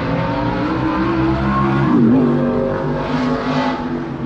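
A race car engine roars steadily at high revs on the road course at Rockingham Speedway, its pitch rising and falling as it runs through gear changes, loud and continuous.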